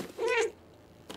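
The cat in the Stray video game gives a single short meow, fairly soft and alone, followed by quiet room tone.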